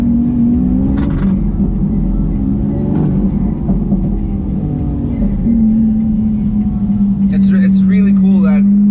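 The naturally aspirated engine of a Lamborghini SVJ hums loudly from inside the car, its tone climbing and dipping as it revs, with a voice speaking over it.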